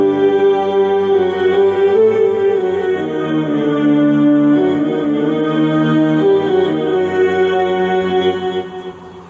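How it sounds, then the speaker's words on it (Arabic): A keyboard violin patch plays a legato melody over sustained string harmony, bright and close, gliding between notes for several seconds before tapering off, with no speech, from a keyboard set arranged for playing music from the film The Message. "هذا صوت الكمان،"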